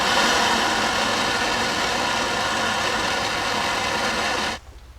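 A torch heats seized bump stop bolts on a Jeep. A steady roaring hiss holds evenly for about four and a half seconds, then cuts off abruptly.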